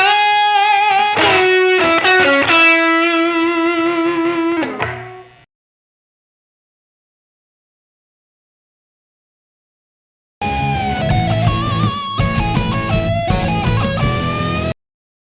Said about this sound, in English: Let's play through this lick one more time at a slow speed.